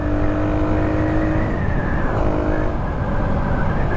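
A Suzuki Raider 150 motorcycle fitted with a BMAX Racing pipe runs in a steady, loud engine drone that shifts in pitch as it rides along, with no talking over it.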